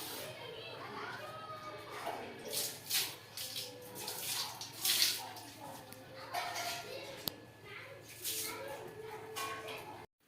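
Warm water scooped and poured from a bucket at home, splashing and trickling in bursts while children play and talk loudly nearby.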